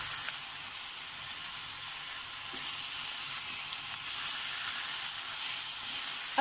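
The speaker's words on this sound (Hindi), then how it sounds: "अब चिकन को फ्राई करते हुए इसे कुक करना है कि चिकन हमारा अच्छे से टेंडर हो जाए।" Chicken breast pieces fry in a pan, with a steady, loud, close sizzle that crackles continuously and evenly throughout, and no voices.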